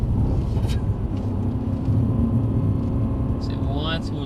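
Mercedes-AMG car on the Brooklands driving circuit pulling out of a turn, a steady low engine rumble holding under a voice coaching the driver, with a faint rising whine near the end.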